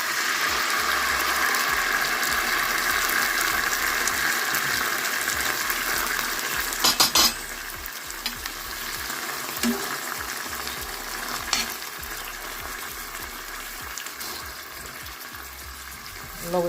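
Banga Mary fish frying in a pan with thyme, Jamaican style. A steady, soft sizzle and bubbling runs throughout, with a few faint clinks and shifts partway through.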